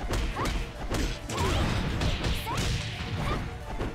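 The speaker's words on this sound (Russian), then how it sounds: "Звук как будто мечом она бьет." Sharp swishing, sword-like strikes from a fighting character in the video game Dead or Alive 5 Last Round, arriving as a quick series of whooshes and impacts over busy game sound.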